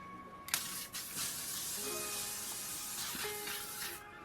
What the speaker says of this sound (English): I'm also going to take my L'Oreal setting spray.